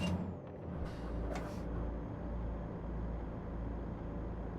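Truck engine in Euro Truck Simulator 2 on a Turkey map mod drones low and steady at a modest level, with two short bursts of air hiss near the start.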